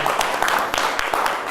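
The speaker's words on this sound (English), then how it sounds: "Let's give Steve a big round of applause" A conference audience at a startup funding talk applauds a speaker, a dense, steady wash of many hands clapping throughout, with faint voices mixed in.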